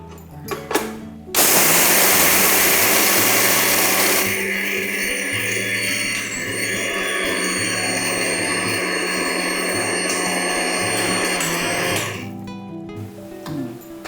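A kitchen mixer grinder pulverises dry-roasted gram dal into powder, roaring loud and continuous for about ten seconds, its tone easing and smoothing partway through before it cuts off.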